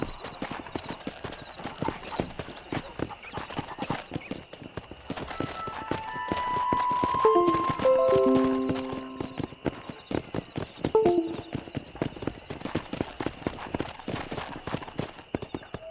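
Horse hooves clip-clopping in Red Dead Redemption, a fast, steady rhythmic patter throughout, with a short swell of music in the middle.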